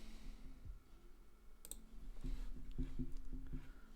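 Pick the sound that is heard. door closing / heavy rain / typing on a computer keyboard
typing on a computer keyboard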